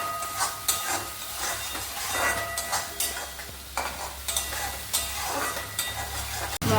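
Green chilies sizzle with spices in a frying pan for a raw-banana kofta curry, while a spoon scrapes and stirs in uneven bursts over a continuous crackling hiss.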